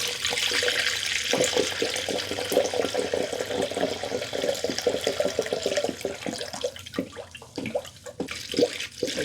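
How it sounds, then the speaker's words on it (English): Radiator flush liquid pours steadily into a radiator opening, a continuous gurgling splash with some glugging toward the end, close and fairly quiet. "I'm going to take my radiator flush and pour that in first"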